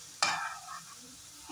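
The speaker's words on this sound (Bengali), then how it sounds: "ড্রাই রোস্ট করে নেব।" Ingredients for zero-oil rajma are dry roasted and stirred in a pan, giving a sharp scrape at the start followed by a soft, fading rustle of dry stirring, close and fairly quiet, with no talk.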